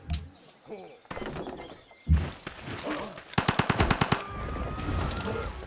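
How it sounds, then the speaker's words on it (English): A Gatling gun firing in the strategy game Civilization 5, a fast rattling string of sharp shots in the middle, with thuds and heavier impacts around it. "with the cannon in range and my Gatling gun, he has no chance"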